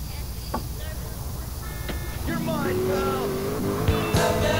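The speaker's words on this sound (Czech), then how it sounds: "Máte to krásné závodní auto." A race car in GTA San Andreas revs and drives, its engine tone climbing and shifting with a brief tire squeal near the end, loud over steady game background noise, with talking alongside.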